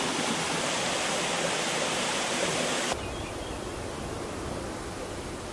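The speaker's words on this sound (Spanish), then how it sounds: "El río tiene mucho desnivel y múltiples cascadas" Rushing water from cascades on the steep Trubia river roars as a dense, continuous wash of noise, loud and close, dropping slightly in level partway through, with no voices.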